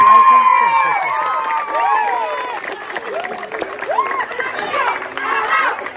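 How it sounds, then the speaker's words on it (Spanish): A lively crowd at a neighborhood festival near a church applauds and cheers, with shouts, whoops and chatter rising over the clapping, loud and busy throughout. "a Silvia Fernanda Acuña, para quien también pido un fuerte, fuerte aplauso."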